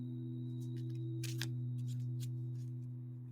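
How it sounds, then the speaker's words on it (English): A deck of playing cards being shuffled, a few quick papery riffles and flicks over a steady low electrical hum, fairly faint and close. "Let's get the cards out. I'm going to do them a shuffle."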